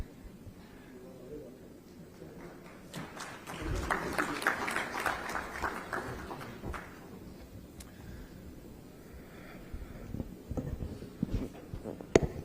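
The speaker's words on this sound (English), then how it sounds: "Ladies and gentlemen, a round of applause for sir." Audience applause for the guest of honor at a CII international aerospace conference in Andhra Pradesh, moderately loud and sustained from a mid-distance crowd, swelling in the middle, then thinning into scattered claps near the end.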